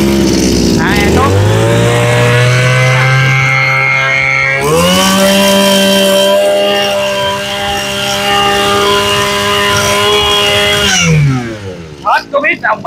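A gasoline brush cutter with a 34 mm cylinder runs loud and close, its engine note climbing twice as the throttle opens, then holding a steady high whine before dropping off near the end.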